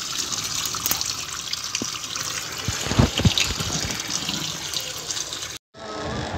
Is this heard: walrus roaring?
no